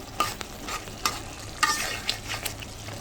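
Dried Bombay duck (loitta shutki) being stirred and sautéed with spices and green chillies in a pan: faint sizzling frying under repeated scraping stirs, a few sharper clinks standing out, no voices.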